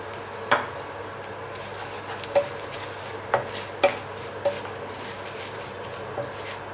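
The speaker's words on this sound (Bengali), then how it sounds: "এইবারে সামান্য শিরা আমি ফ্রাই করে নেব" Flattened rice (chira) fries in oil, a faint steady sizzle under six or so sharp metallic clinks of a utensil against the pan, spaced irregularly.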